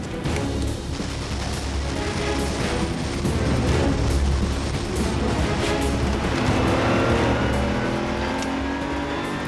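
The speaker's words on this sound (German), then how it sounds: "Über die Quiddelbacher Höhe hechtet der Lamborghini auf die Kuppe am Flugplatz zu" A Lamborghini Murciélago V12 sports car charging over the Quiddelbacher Höhe on a race track: a loud, continuous engine roar that swells and holds steady throughout, heard up close with no speech.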